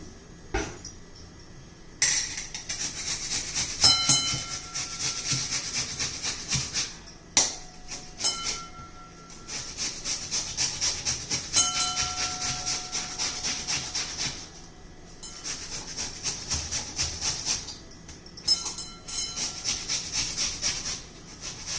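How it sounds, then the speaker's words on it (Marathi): A raw potato is grated into a bowl in long runs of rhythmic, raspy rubbing strokes, close and fairly quiet, with brief pauses and a few sharp taps between runs. "आता एक बाउल घेतलेला आहे मी, त्याच्यामध्ये आपल्याला हा कच्चा बटाटा किसून घ्यायचा आहे."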